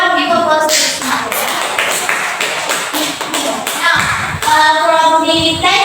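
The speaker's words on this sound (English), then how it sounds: "Everyone give applause to Cynthia." Students in a classroom clap together for a classmate, a dense, close burst of hand claps lasting several seconds with a brief pause before a final flurry.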